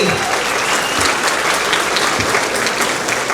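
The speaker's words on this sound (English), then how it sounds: "now y'all give that round of applause." An audience at a chamber of commerce celebration applauds steadily, a dense, even wash of many hands clapping close by that carries on without a break.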